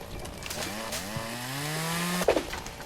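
Chainsaw cutting trees in the Lumberjack's Dynasty video game, a steady loud engine whine that climbs in pitch as the saw revs, ending in a short burst of crackling noise.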